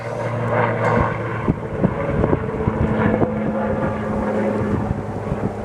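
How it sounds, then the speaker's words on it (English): A US Marine Corps helicopter flying overhead: a low, steady engine drone with rotor-like throbbing hums throughout, loud and continuous, with some wind buffeting on the microphone. "let's wait for the helicopter to go overhead"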